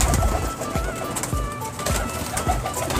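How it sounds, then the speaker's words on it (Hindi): Teddy pigeons kept by a breeder coo in a steady series of low, repeated calls close by, with a busy background of other birds and faint room noise. "ये टैडी कबूतर है, ये देख, ये टैडी कबूतर देख।"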